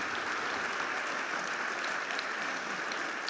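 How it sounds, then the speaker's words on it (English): An audience applauds steadily at a client summit event, a dense, even wash of clapping that stays loud and constant throughout with no talk over it. "Give him a big round of applause."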